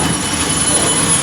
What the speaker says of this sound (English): The train is still in motion.